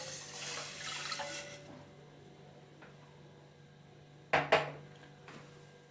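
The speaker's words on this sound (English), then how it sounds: "Add 1 cup of clean water." Clean water poured into a cooking pot while making Kenyan ugali: a steady broadband splash and trickle for the first second and a half, tapering to quiet dribbles, followed by two sharp clanks of the pot near the end.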